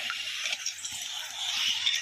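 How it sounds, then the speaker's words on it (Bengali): Water runs and swishes over flattened rice (chira) being washed in a bowl, a steady close splashing wash with a brief rise toward the end. "চিড়ে খুব ভালো করে ধুয়ে নিয়েছি"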